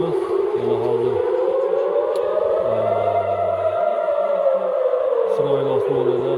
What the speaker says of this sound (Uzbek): Isroil osmonida yana sirenalar yangramoqda